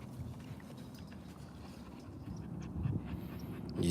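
A young puppy panting in quick, soft, steady breaths close by, with faint whimpers and small rustles, fairly quiet and without talk.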